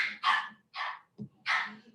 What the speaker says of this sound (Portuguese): Esse cachorro de novo.